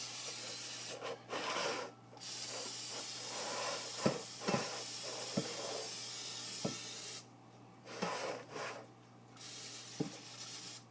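Several bursts of aerosol cooking spray into cake pans, hissing on and off in long stretches, with light clicks and knocks between them.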